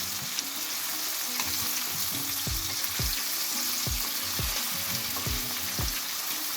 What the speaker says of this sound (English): I'm just going to give it a quick stir.